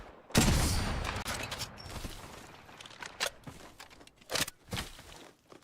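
Video game gunfire erupts in a loud, close burst, then continues as irregular volleys of rapid shots and sharp cracks, with brief gaps between bursts.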